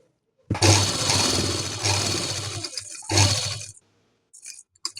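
Electric sewing machine stitching full pleats into a kurti, running in two loud continuous bursts of motor whir and needle clatter, with a short pause between them and faint quiet sounds after.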